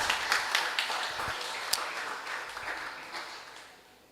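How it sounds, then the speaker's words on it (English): Audience applause at a careers event on the information technology industry, scattered individual claps over a crowd ovation that gradually thins and fades out over about four seconds. "give him another round of applause"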